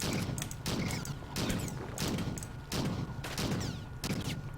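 Rapid bursts of video game gunfire from the dual-stick shooter Xenowerk, loud and close, coming in repeated volleys with short gaps between them and no talking.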